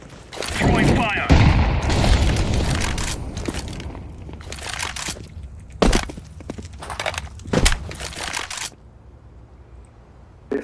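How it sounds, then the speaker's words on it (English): A molotov fire grenade is thrown in the shooter game CS2, bringing loud percussive bursts and crackling impacts among other gunfire and game effects, with a voice talking over the action. "Throwing fire."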